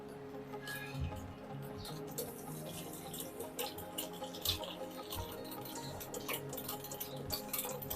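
Cold water being whisked with blended palm fruit (ice apple) for a summer drink, giving a steady watery swishing with faint ticking whisk strokes against the bowl, close and continuous with no talk.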